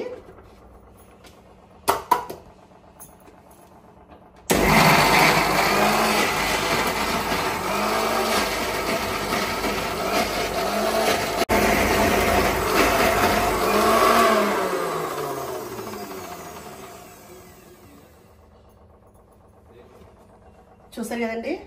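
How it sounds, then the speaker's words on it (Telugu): A kitchen mixer grinder blends tomato pickle in its jar, a loud steady whirring roar that starts abruptly, runs for about thirteen seconds with slight pitch shifts, then winds down, with brief handling knocks before and after. "ఇప్పుడు మిక్సీ పట్టేసుకుందామండి"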